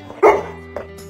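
A dog gives a single loud close bark on command, followed by a softer short yip, with the handler's voice around it.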